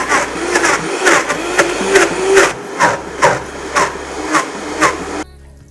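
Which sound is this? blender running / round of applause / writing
blender running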